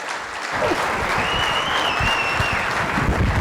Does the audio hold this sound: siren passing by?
no